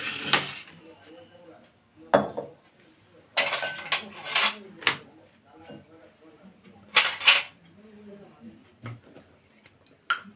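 Cashews, raisins, pepper, fennel and cardamom stirred in a bowl with jaggery, giving scattered knocks and scrapes of a spoon against the bowl in irregular bursts, close and clear, with quiet gaps between them.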